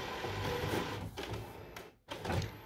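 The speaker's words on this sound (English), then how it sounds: "the printer is about to restart" An Epson WF-7710 inkjet printer restarts after a firmware update, whirring and shuffling mechanically with a brief pause before the motor noise resumes, close by and without talk.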